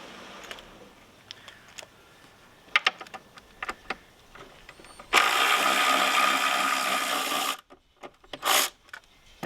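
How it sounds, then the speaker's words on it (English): Screws being backed out of an outboard motor casing with a power driver: scattered clicks and taps, then a steady two-and-a-half-second whirring burst, close and alone, followed by a short second buzz. "Those are the screws that I'm taking out."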